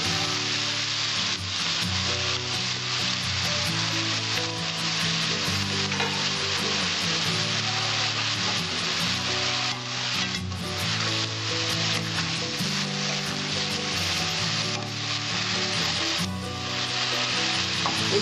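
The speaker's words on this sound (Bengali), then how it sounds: "এবার আমি লাউয়ের খোসাটা ছেড়ে দেবো।" Bottle gourd skin sizzles steadily in a hot pan, a dense continuous frying crackle that stays loud and close throughout with no talking.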